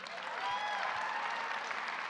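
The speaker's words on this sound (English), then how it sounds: "Give him a round of applause." An audience at a presidential energy event in Colorado applauds Lieutenant Governor Joe Garcia with a full, steady round of clapping that stays constant for the whole moment.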